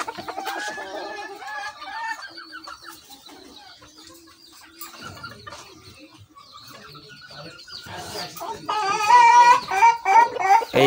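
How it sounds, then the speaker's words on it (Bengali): A silver Cochin chicken clucks in a series of short, uneven calls that grow louder and busier toward the end, with other farm birds faint in the background. "এইটা হচ্ছে সিলভার কালার কোচিন মুরগি।"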